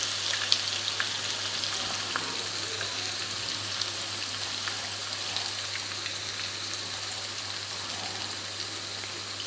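Chopped onions fry in a pan for a Pakistani til wali murghi chicken dish, a steady soft sizzle and crackle running throughout at low level with a constant low hum beneath and no talking.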